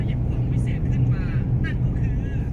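A car engine holding steady at about 2,000 rpm while cruising slowly on mountain highway 1256 from Bo Kluea to Pua, a continuous low hum with road noise under someone talking.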